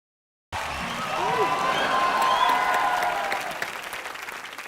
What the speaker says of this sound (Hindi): इतना लोग के सामने कभी ऐसा मेरा ताली नहीं बजा है